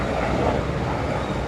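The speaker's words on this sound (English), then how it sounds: "the sound of Kerrville right now is the sound of helicopters flying overhead" Search and rescue helicopters fly overhead above flood-hit Kerrville in the Texas Hill Country, a steady, loud rotor and engine rumble that fills the short stretch without a break.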